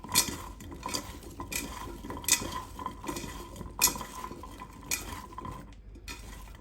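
Slow cooker corned beef hash made with canned corned beef being mixed in a pot, with repeated scraping and clinking of a utensil against the sides in an uneven rhythm, close and moderately loud.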